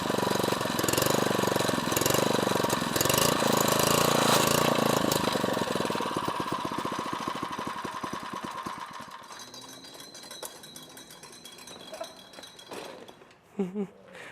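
A small gas engine on a kid-sized side-by-side built from a Power Wheels runs loudly and roughly, then winds down and fades over the last several seconds, ending with a brief clatter.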